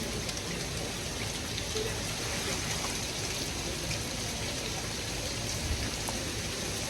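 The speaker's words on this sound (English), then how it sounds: "the sound of rain is actually relaxing" Steady rain falls continuously, a dense, even wash of patter with no breaks and no voices.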